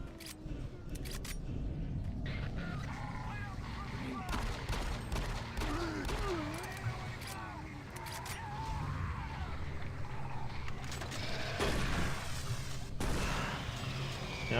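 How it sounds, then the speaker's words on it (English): Distant pistol shots and bursts of machine gun fire crackle in a live-streamed game, scattered irregularly through a continuous busy background with sharp transient pops and some voice-like sounds mixed in. "I heard a lot of pistol fire going off. Okay, some machine gun fire too,"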